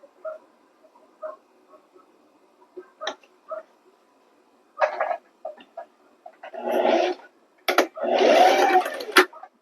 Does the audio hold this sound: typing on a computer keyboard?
no